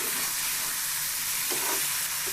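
Raw sweet pumpkin frying with a fish head, a thick steady hiss of hot oil with a couple of faint stirring scrapes near the end, close and uninterrupted.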